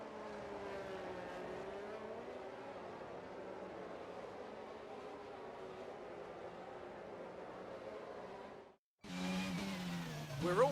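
Race cars in the F1 22 video game roll around the Singapore Grand Prix circuit on the formation lap, a steady engine drone that cuts out briefly near the end before a brighter, louder burst of engine noise returns.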